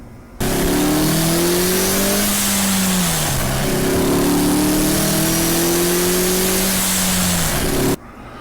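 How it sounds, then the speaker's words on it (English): A turbocharged Nissan Sentra SE-R Spec V engine, boost set low at about three to four pounds, revs loudly in a steady series of rising pulls with brief dips between, heard from inside the car with no talk. "Car's running great."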